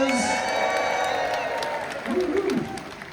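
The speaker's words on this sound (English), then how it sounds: "Almost half the amount of people and just as much cheer there." Cheering from a cruise ship audience at the Aquatheater of Star of the Seas, with whoops and clapping that build and then fade, under a host's amplified voice.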